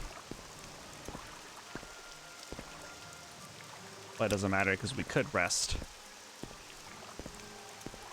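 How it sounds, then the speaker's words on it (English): Steady rain falls throughout an outdoor scene in the video game Morrowind, a soft continuous patter with sparse drips, and someone speaks briefly over it midway. "Is it just constantly raining out here? Does it never stop?"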